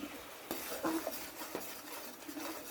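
Fried prawns being lifted out of a pan with a metal utensil, several clinks and scrapes against the pan over a faint sizzle, close by and without speech.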